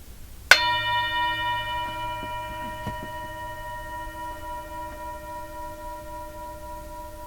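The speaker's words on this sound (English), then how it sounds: "I'm going to ring the bell. I'm going to ask you to listen carefully." A single bright strike of a resonant meditation bell, close and clear, followed by a long, pure ringing tone that slowly fades over several seconds.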